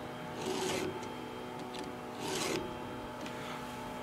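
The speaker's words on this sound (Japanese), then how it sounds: "ヤスリを全面使ってくださいね。" Two long, slow rasping strokes of a file sharpening a chainsaw chain, each lasting about half a second and spaced roughly two seconds apart, close and moderately loud over a steady background hum.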